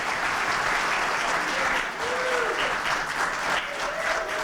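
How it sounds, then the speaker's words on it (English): Sustained audience applause at a college elevator pitch competition for entrepreneurs, dense steady clapping throughout with a faint voice briefly audible beneath. "Clap a little bit longer for all of the entrepreneurs."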